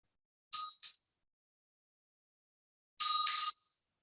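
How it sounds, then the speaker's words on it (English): Meditation chimes ring out clearly against silence, first two quick strikes close together and then a brighter, longer ring a few seconds later, with no voices. "with the 3 chimes, we bring this meditation to a close"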